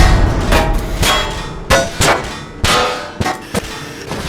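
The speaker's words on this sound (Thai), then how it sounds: "เสียงกระทบของเศษเหล็กที่ดังขึ้นมา มันกึกก้องกระทานไปทั้งตัว" Loud metallic clangs and clanks of scrap metal striking, irregular bursts with ringing tails, close and harsh.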